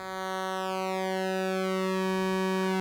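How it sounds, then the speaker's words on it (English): An Erica Synths Das Kleine Fusion System modular synthesizer holds a steady, hollow buzzing square wave tone, even and continuous at moderate volume, with a faint sweep in its upper overtones and no speech. "When I hit the middle and both pulses are equal, you hear that more hollow tone, which is the square wave."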